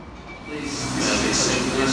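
A six-coach National Rail train at London Bridge Station, a broad rumble and hiss of the train that swells and grows louder over two seconds, with station ambience around it.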